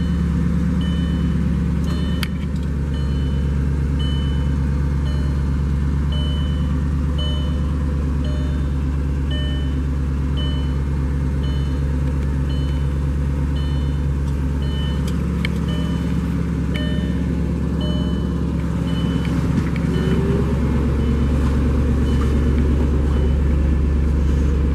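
A car with a solar sunroof and 74,000 miles idles after being fired up, a low steady engine rumble running close and continuous, with a faint extra rise midway and no voices over it.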